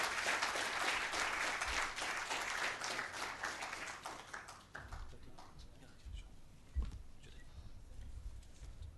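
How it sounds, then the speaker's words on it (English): Audience applause for a cricket match referee being welcomed at a forum, steady and dense at first, then thinning and fading out over the second half with a few scattered late claps. "Can we have a round of applause for Dr. Mahanama?"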